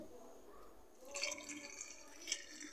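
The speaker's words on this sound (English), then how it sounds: "then the next thing, I'll add water." Water poured onto ginger in a kitchen for a homemade cough remedy, a soft close trickle and splash that starts about halfway through after a quiet stretch and continues at low volume.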